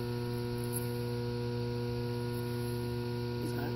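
A pond aeration air compressor runs steadily with a strong, constant hum and layered harmonic drone, continuous and fairly close with no talking.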